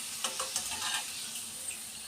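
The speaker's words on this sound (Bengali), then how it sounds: "পাঁপড় ভাজা হচ্ছে।" Papad frying in hot oil gives a faint, steady sizzle with a few small crackles and soft stirring scrapes near the start, heard alone without talk.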